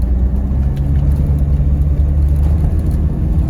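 Steady low rumble of a 1994 Land Rover Discovery 300Tdi diesel with automatic transmission cruising on the road, a constant droning engine and road noise heard from inside the cabin with no talk.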